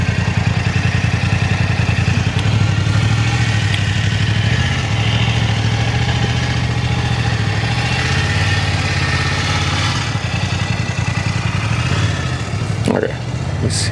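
A loud motorcycle idles close by outdoors beside a waterway, its steady low engine rumble and clatter running continuously with small shifts in pitch, and a brief faint higher sound near the end.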